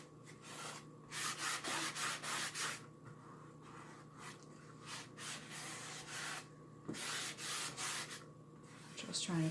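A towel wipes wax onto a painted wooden house frame, giving soft, close rubbing strokes in quick bursts separated by short pauses.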